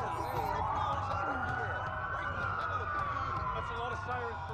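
Police sirens wail in the video game Watch Dogs during a city blackout, several overlapping sweeping tones rising and falling, loud and continuous over a low rumble.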